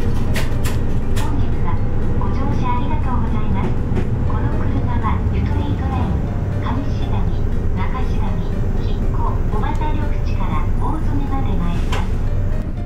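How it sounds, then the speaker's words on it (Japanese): A guided bus engine in Nagoya rumbles steadily as it pulls away and keeps running, crossing a bridge, with squeaks and rattles of the cabin under a voice talking. "バスは時刻通り16時28分構造寺の停留所を出発していきます"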